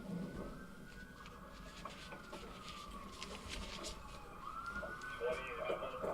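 Police car sirens sound along a main road in Dearborn as about twenty cruisers clear the way, wailing tones rising and falling at a moderate distance over steady street noise and scattered background voices.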